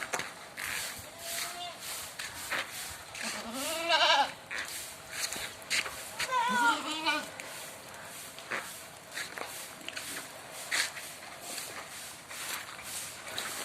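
Malabari goats, a pregnant doe among them, bleat twice at a livestock sale amid other animal noise and shuffling hooves, with a few further faint calls and some background voices.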